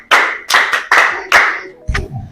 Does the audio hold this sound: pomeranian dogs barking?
no